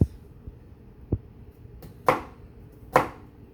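Knife chopping onions on a cutting board, a handful of separate, crisp thuds at uneven intervals, close and clear against a quiet background.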